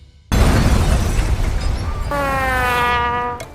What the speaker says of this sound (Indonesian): Namun di tengah perjalanan roket itu tiba-tiba meledak